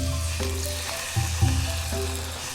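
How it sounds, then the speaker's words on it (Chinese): Pan-fried buns in oil with a splash of flour water hiss in a steady sizzle, with bubbling pops and a few small clinks on top, close and alone. "冒泡泡了这个就开始煎了"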